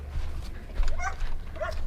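A dog whines and yips in short, high bursts at a dock diving training session, fairly close, over a low steady rumble of background noise with no talk.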